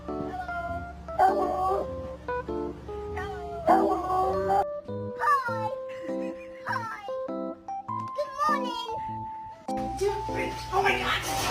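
A dog howls and yips in a long, wavering run of rising and falling cries, close and fairly loud, while people talk and laugh around it.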